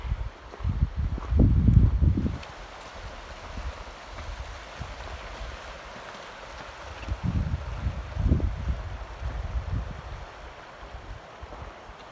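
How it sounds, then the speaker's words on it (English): Gusty wind buffets the microphone on a steep mountain backpacking trail climbing toward Washakie Pass in the Wind River Range, with two strong rumbling gusts near the start and middle over a steady low rush. "A little breezy."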